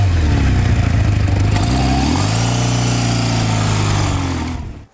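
A classic Kawasaki KZ650 motorcycle engine runs loud and close, holding a steady throbbing idle, then its pitch shifts as it revs briefly and settles again before cutting off near the end.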